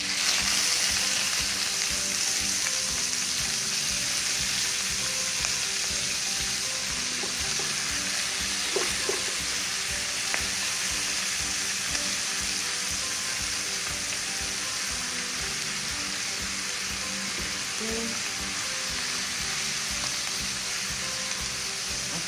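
Steaks fry in a pan with a continuous, even sizzle and crackle, close and steady, with occasional small clinks.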